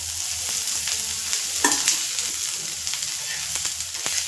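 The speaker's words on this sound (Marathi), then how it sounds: "थोडं तेल टाकून भाजून घेते कांदे मस्त" Onions frying in a little oil, a continuous close, bright sizzle with occasional stirring knocks and a louder scrape midway, no voices.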